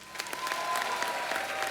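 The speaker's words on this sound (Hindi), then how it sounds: "आप सबकी जोरदार तालियों के बीच प्लीज वेलकम" Studio audience on a comedy talk show claps in a brief, energetic burst of applause, dense and fairly close, with music playing faintly underneath.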